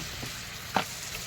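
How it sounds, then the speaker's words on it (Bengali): Tamarind liquid poured into a hot pan while cooking a sole fish sour curry sizzles and crackles briefly, with a sharper burst midway over a low steady fry, near and moderately loud. "এই আমার তেঁতুলের কাঠ বের করে রেখে দিয়েছি, আমি এটা ঢেলে দেবো।"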